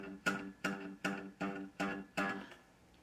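Cigar box guitar played with the thumb keeping a steady Delta blues bass rhythm: six evenly spaced, palm-muted plucked notes, quiet and close, each decaying before the next.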